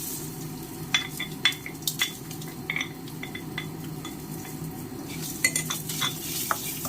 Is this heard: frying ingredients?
yes